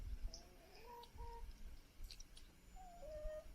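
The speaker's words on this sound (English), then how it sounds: "rare breed cream leg bar chickens" Rare breed cream legbar chickens cluck softly in a fenced smallholding run, with short, faint calls rising and falling over quiet outdoor background noise.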